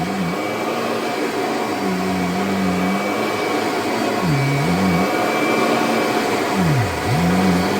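Kirby vacuum cleaner, one of the G4, Sentria, Heritage 1 or Ultimate G Diamond Edition models, running loud and close with a steady whine that dips and swells a few times as the motor speed shifts, with no talking.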